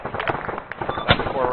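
Four rounds of gunfire from a military video game crackle in quick, sharp bursts at middling distance. A voice talks over the shots.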